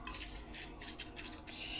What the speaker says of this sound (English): we're gonna give this a stir and pop it in the microwave